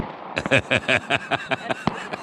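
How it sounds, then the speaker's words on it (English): Bottle rockets fired in an all-out battle between two teams, heard as a rapid, loud series of about ten sharp whistling bursts at an even rhythm, followed by a single crisp crack. "But this was an all-out bottle rocket battle."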